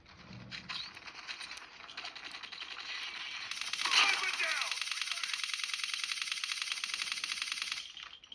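Gunfire in a shooter game played on a mobile gamepad, a dense mechanical rattle of rapid shots that swells into a sustained, loud burst near the middle and keeps going to the end, with no talking.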